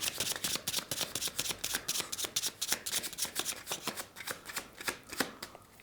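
Playing cards being shuffled by hand, heard as a rapid, close run of crisp riffling flutters with no talk over them.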